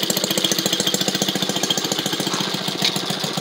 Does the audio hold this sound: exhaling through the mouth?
no